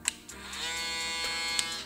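An FX3 electric shaver switches on with a click and holds a steady, close, high-pitched buzzing hum, with another click near the end.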